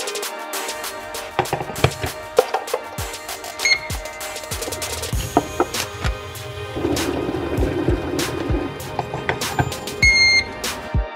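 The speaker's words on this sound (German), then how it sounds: "Im Moment regnet es noch, ein kleines Unwetter zieht auf" Rain falls steadily in Amsterdam as a small thunderstorm moves in, with scattered sharp drips and patters close by and low rumbles underneath, no voices heard.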